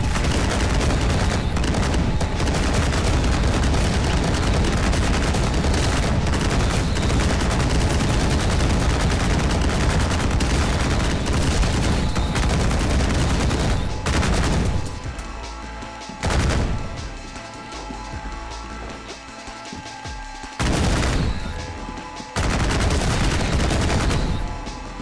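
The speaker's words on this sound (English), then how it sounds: "I'm basically mopping the floor with the chain gun." A chain gun in the first-person shooter Ion Fury blazes in a dense, continuous roar for about fourteen seconds, then breaks into a few separate loud bursts with quieter gaps between them.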